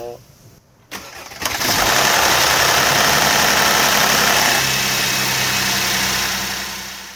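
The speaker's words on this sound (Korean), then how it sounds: "시동 걸어주세요." A Mercedes-Benz W212 E-Class gasoline engine cranks and catches, then settles into a loud, steady idle up close.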